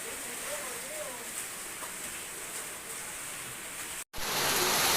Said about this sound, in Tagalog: naulan na, napakalakas ng ulan.